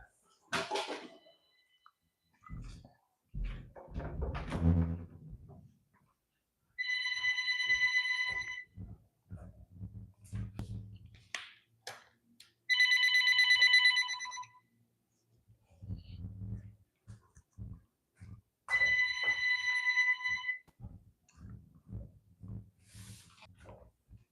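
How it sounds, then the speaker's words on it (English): A telephone rings in three separate bursts of bright electronic tones, spaced several seconds apart. Someone talks between the rings. "There's a phone ringing."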